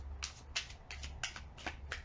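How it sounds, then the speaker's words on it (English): Tarot cards riffled and shuffled in six quick crisp bursts, close up, over a low background hum. "A couple more shuffles."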